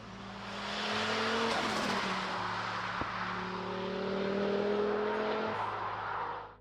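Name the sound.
Volvo 850R turbocharged five-cylinder engine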